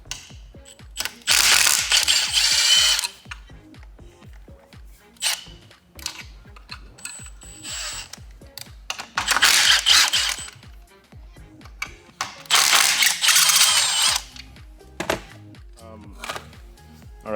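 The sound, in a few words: ratchet removing number 6 Allen head bolts from transmission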